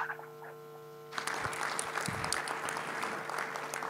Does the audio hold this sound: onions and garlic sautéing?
no